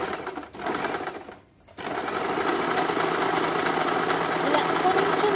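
A normal domestic sewing machine stitches along a cutwork fabric edge with a steady, close mechanical whirr, pausing briefly near the start before running on continuously.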